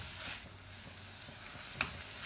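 Chhena being stirred with jaggery in a pan on the stove for kheer sandesh, a faint, soft continuous hiss with one brief scrape of the spoon near the end.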